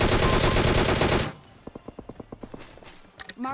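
Gunfire in the PUBG video game, including a Scorpion weapon: a dense, loud burst of rapid automatic fire for over a second, then a rhythmic string of quieter single shots, ending in a final short burst.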